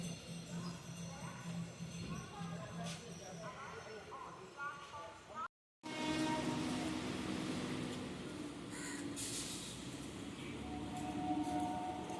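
A Sealdah-Barasat local train pulls out of Bidhannagar Road station with a steady, noisy carriage rumble and rattle. The sound cuts out for a moment, then the rolling din resumes and grows slightly.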